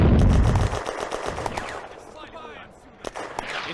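Soviet mortar fire on the Eastern Front in the Firefight war game: a heavy blast opens the clip, then crackling gunfire and scattered distant pops, with voices talking over the battle.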